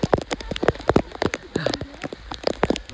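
Steady rain patters down on a daytime hill trek near Landour bungalow, a dense close spatter of drops striking surfaces throughout, with little else over it.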